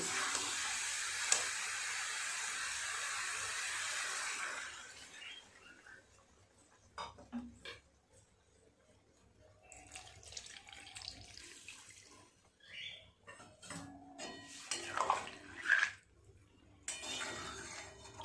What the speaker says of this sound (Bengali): এবার পরিমাণ মতো জল দিয়ে সিদ্ধ করতে দেব।